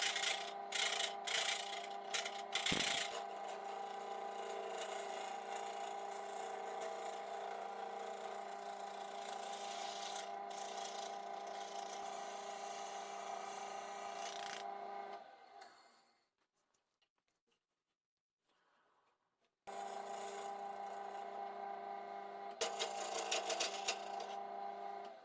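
Laurel wood and epoxy resin turn on a lathe with a continuous humming drone and rubbing cuts. The sound stops abruptly for a few seconds of near silence, then resumes at the same steady level.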